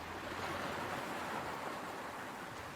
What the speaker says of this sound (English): for the ambience of this shot with Kaliuchi's out in the water, I had these waves here.